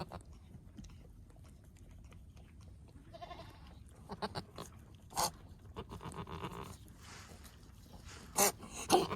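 A newborn goat kid gives a few faint, short bleats among rustling and shuffling nearby, with a quiet farmyard background and no talk.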